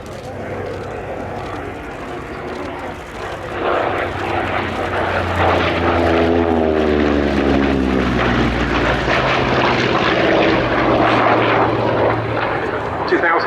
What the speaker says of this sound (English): Horsepower from the Corsair's Pratt & Whitney R2800 double wasp engine.